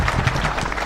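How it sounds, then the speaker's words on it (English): An audience at a strategy launch event applauds loudly and close in a short, dense burst of clapping. "Thank you, a round of applause."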